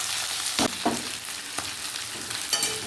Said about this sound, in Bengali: তেলের মধ্যে পেঁয়াজটা পেঁয়াজ দিয়ে দেবো পেঁয়াজের কুচিটা